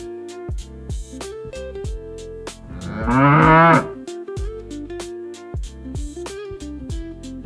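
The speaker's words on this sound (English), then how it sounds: "In English, we say cow." A cow gives one loud, drawn-out moo of about a second, set against a bouncy music track with regular percussive beats and no talking.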